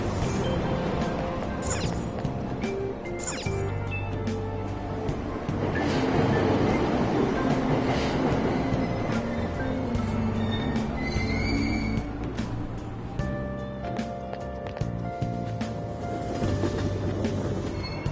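A train in the game Persona 5 Royal rumbles and clatters along a platform as it pulls out, with a station chime and steady rolling wheel noise throughout.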